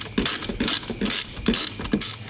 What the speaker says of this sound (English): Grab your ratchet and tighten each one of these down until it's tight.